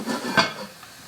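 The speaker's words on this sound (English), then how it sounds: "So I'm going to now put the lid on." A metal lid is set onto a cooking pot of onions for a French onion pot roast, making a single short clatter, close and fairly quiet.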